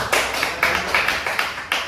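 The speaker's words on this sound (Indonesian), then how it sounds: "Tepuk tangan dulu dong buat 3 pembicara ini." A short burst of rhythmic clapping, a handful of people applauding together in quick, even beats.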